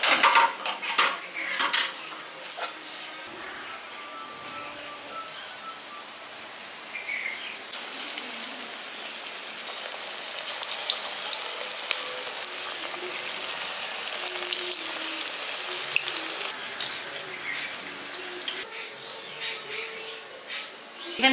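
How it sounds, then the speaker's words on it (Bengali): Village-style vegetable pakoras drop one by one into hot oil over a medium gas flame, giving a steady broad sizzle with clinks of utensils against the pan, loudest early and then settling into a continuous fry with no voices. "গরম করে নেওয়ার পর গ্যাসটাকে মিডিয়াম করে দিয়েছি, দিয়ে এবার পকোড়াগুলো একটা একটা করে দিয়ে দিচ্ছি।"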